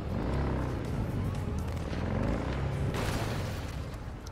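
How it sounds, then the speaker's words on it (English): Gunfire and booming blasts in the video game Cyberpunk 2077 roll on without a break, a dense, rumbling barrage of shots heard at a distance throughout. "Oh, there's some gunshots going on."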